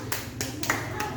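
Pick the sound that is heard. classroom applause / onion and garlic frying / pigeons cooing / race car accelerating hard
classroom applause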